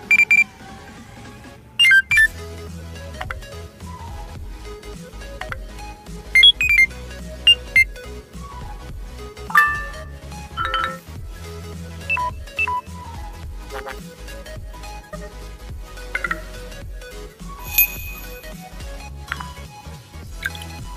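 A run of Android phone system tones plays one after another: short chimes, beeps, clinks and alarm-like jingles, each brief and crisp against a quiet background.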